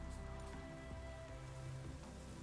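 Steady rain pouring in The Witcher 3, a dense continuous patter and hiss of drops on surfaces with faint low game ambience beneath, even and unbroken throughout.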